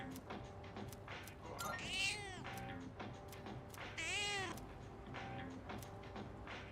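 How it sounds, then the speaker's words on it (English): A cat in the video game Persona 3 Reload gives two drawn-out, rising-and-falling meows a couple of seconds apart, over steady game background music. "Gotta feed this fucking cat again for the 17th time."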